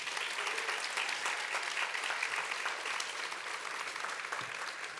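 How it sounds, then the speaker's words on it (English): Sustained audience applause during a university service awards ceremony, dense and steady for the full stretch, with no talk over it. "a round of applause for those folks who aren't here as well"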